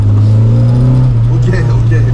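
Drift car engine droning steadily at close range, a loud low rumble holding throughout with slight rises in revs, while people talk over it.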